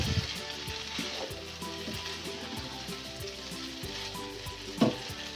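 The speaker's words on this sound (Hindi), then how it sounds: "ये देखिए इतनी मैक्रोनी मैंने डाल दी है। अब हम इसको मिक्स करेंगे आराम आराम से यूँ" Macaroni sizzles steadily in a hot pan while being stirred, with a continuous frying hiss and recurring soft scraping strokes, plus one sharper clatter near the end; no voices.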